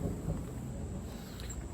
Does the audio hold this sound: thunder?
yes